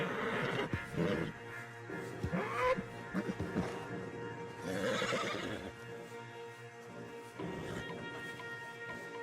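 Horses in the Red Dead Redemption 2 video game whinny and neigh repeatedly, with clip-clopping hooves and shuffling in between, loud and fairly close throughout.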